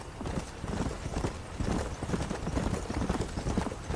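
A horse gallops in the Western video game Red Dead Redemption, a steady, fast run of hoofbeats that drums on without a break for the whole stretch.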